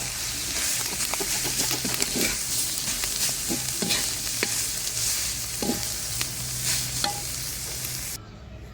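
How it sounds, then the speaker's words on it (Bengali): Leafy greens are stirred into fried garlic in a wok over a wood-fired stove on a rooftop, a steady hiss of sizzling oil broken by scraping and clattering strokes of the spatula, close and alone. "রসুন ভাজা হয়ে গেছে, এখন শাকটা মিলাই দিচ্ছি।"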